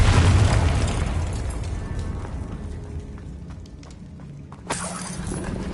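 In Hogwarts Legacy, the Confringo fire spell erupts as a loud, booming explosion that decays over a few seconds into a rumbling tail, followed by a sharper second burst near the end.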